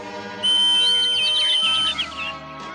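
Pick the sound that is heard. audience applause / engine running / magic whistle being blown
magic whistle being blown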